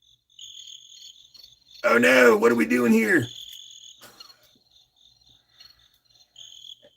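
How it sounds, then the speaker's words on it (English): A crickets-chirping sound effect plays as a thin, steady high trill that runs faintly through the clip, briefly interrupted when a person speaks. "We got crickets."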